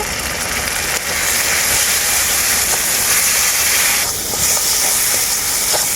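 Loud, steady hiss of water splashed into ground coriander, pepper and turmeric frying in a pan for a chicken curry, a dense sizzle running the whole time with a brief dip near the start and a burst later.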